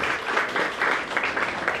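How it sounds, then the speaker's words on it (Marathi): Audience at a housing society general body meeting breaks into loud, sustained applause, dense overlapping hand claps with rhythmic swells throughout, no speech on top. "पुन्हा एकदा टाळ्या होऊन जाऊ दे जोरदार."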